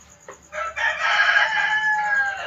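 A rooster crows loudly nearby, one long drawn-out call rising and holding steady, with no talking.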